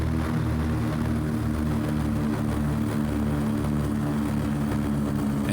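Twin piston engines of a Carenado PA44 Seminole in a flight simulator game drone steadily throughout, a loud continuous propeller hum as the throttle comes down on landing approach.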